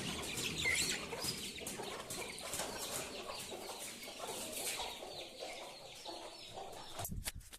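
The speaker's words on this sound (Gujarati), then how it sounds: "લો કુકડો મસ્ત" A rooster clucks repeatedly close by amid other farm fowl, with some wing flapping and busy background noise throughout, loud and continuous.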